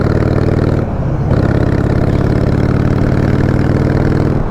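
A Harley-Davidson Sportster motorcycle engine idles close by with a steady, deep, lumpy rumble that holds even throughout, with one brief dip in level before settling back.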